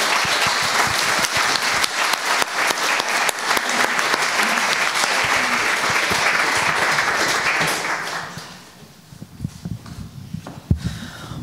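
A studio audience on a Latvian talk show about abortion applauds, loud dense clapping for about eight seconds that then fades to scattered claps, shuffling and room noise.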